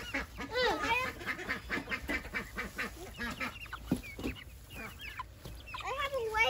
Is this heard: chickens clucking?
yes